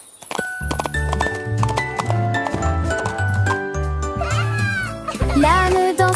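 A cartoon donkey's hooves clip-clop in a steady rhythm down a village street, mixed with jingling little bells under a loud children's song with voices.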